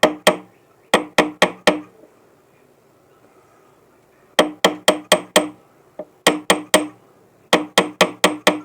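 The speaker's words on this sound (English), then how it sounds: "we're going to use our ball peen hammer" A ball peen hammer taps a white gold ring being sized, in close, sharp metallic strikes that come in quick bursts of three to five, separated by short pauses.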